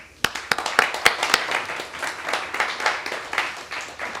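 Audience applause greets a conference speaker: a few sharp, separate claps at first, then a steady patter of hands from a modest crowd indoors, at moderate loudness with no talk over it.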